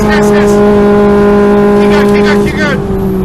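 A K-swapped Renault Clio race car engine drones loud and close at steady high revs, its tone dipping slightly near the end, with a voice talking over it.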